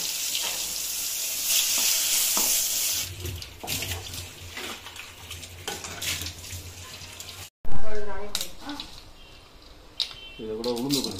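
Spices and dried chillies crackle and sizzle in hot oil for tempering pumpkin sambar, loud and close, with stirring and clatter of utensils, briefly cut off then resuming with a splash.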